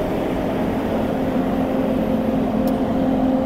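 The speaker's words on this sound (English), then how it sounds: "that truck is very noisy." A noisy truck passes along a city street near Buckingham Palace, a steady loud engine rumble and road roar filling the whole stretch without letting up, no voices over it.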